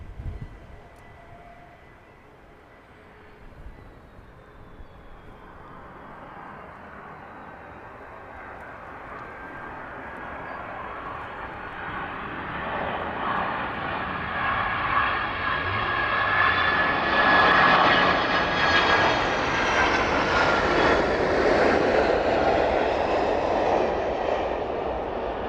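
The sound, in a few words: Boeing 767 jet airliner arriving, engines roaring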